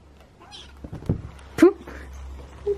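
A tiny kitten gives one short, high meow and a faint second one at the end, close by, amid soft rustling and handling noises with a voice nearby.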